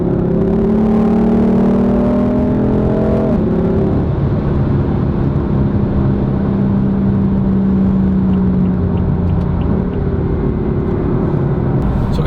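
A BMW M4 drives through a long curve in fourth gear under held power, its engine and exhaust giving a steady loud drone whose pitch climbs, dips around a gear change, then settles into a sustained near roar.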